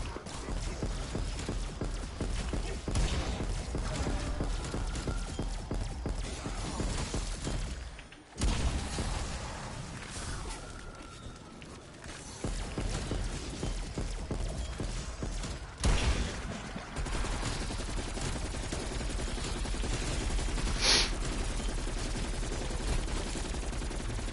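An RPD machine gun in Cold War Zombies fires in sustained rapid bursts, loud and close, over a dense layer of game noise, with brief pauses between sprays.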